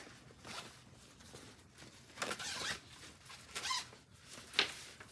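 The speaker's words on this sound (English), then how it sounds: "First thing I have to do is unzip the packing cube all the way" A compression packing cube is unzipped all the way in several quiet, rasping zipper pulls that come in short bursts with pauses between them.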